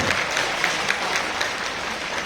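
An audience at a community gathering claps for the event organizers, a dense, even roar of many hands close by, holding steady throughout.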